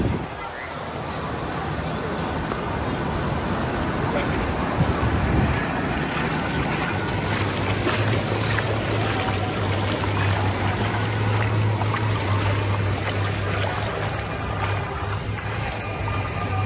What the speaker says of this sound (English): Here comes the wave now, you can see.